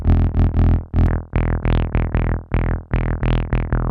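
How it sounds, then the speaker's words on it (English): P565 Siren synthesizer with its distortion drive engaged, a thick buzzy bass line of about a dozen repeated, sharply plucked notes that each fade quickly, loud and alone. "Next up is the distortion with the drive knob in the middle."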